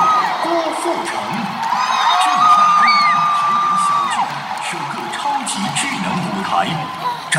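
A large audience at a concert in Taipei Arena roars with loud, sustained cheering, whoops and yells. Whistles rise over the dense crowd noise, and a voice is partly audible underneath.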